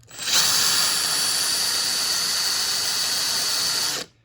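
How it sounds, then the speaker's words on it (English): A close, loud power drill drilling a hole through a car roof spins up and runs steadily with a high whine for about four seconds, then stops abruptly. "So I'm just going to slowly start drilling these through."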